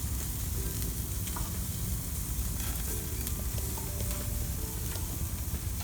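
Pork loin souvlaki sizzles steadily on a barbecue grill, a constant dense hiss and crackle at moderate level with no talk.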